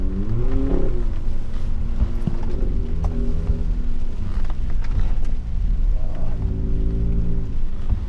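A BAIC BJ80 G800 SUV, a Chinese G-Class-style off-roader, drives hard on a track, its heavy engine note droning loud and steady with rising and falling harmonics throughout, no voices.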